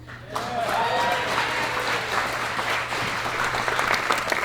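Wedding guests break into applause after a speech, a full, sustained burst of clapping that rises quickly and stays strong, with some voices and cheering mixed in over a low hum.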